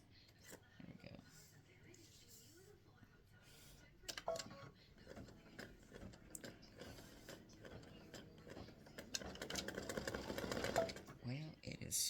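A sewing machine runs stitching through a handmade paper retirement greeting card, giving a busy mechanical rattle that builds toward the end, with someone talking over it.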